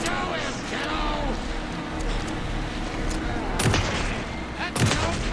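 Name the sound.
gunshots from the video game Alan Wake II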